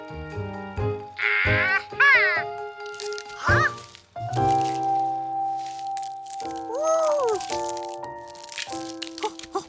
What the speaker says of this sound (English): A duck is hatching right before my very eyes.